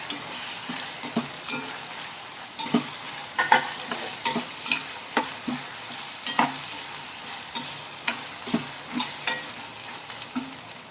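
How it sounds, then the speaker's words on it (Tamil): Onions and tomatoes sautéing in a pan for plantain kulambu, a steady close sizzle under regular rhythmic stirring strokes of the spoon against the pan. "பாருங்கள், தக்காளி நல்லா வதங்கிடுச்சு. வெங்காயம் தக்காளி ரெண்டுமே நல்லா வதங்கிடுச்சு."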